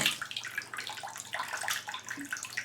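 Water runs steadily from a Pfister three-handle tub and shower faucet, a continuous hissing flow in a bathroom with no talk over it.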